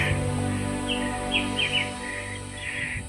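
Several short, bright bird calls and chirps ring out in mountain forest on Mount Canar near Talaga Bodas in Garut, scattered across a few seconds above a steady droning hum.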